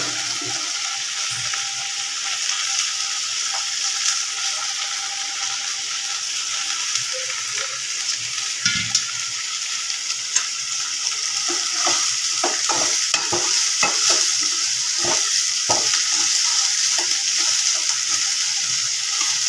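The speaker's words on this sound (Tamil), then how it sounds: "இப்போ முருங்கைப்பூவை அள்ளி அதில் போட்டு நல்லா வதக்கி விட்டுக்கணும்." Drumstick flowers tossed with onion and green chili in a hot pan, a steady close sizzle with stirring scrapes and clinks of a spatula growing more frequent toward the end.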